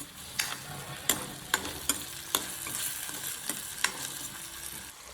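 Potatoes sauté in a pan over a constant low sizzle, while a spatula knocks and scrapes against the pan about eight times at uneven intervals.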